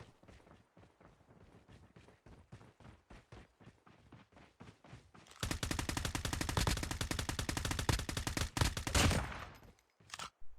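Gunfire in a COD Mobile match: distant rhythmic shots at first, then a loud, dense burst of rapid automatic fire that continues for several seconds before tapering into scattered shots.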